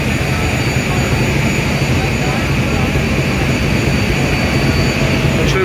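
Twin engines of the passenger launch Adventure 9 running on a river in Bangladesh, a loud steady droning roar with constant mechanical rumble throughout.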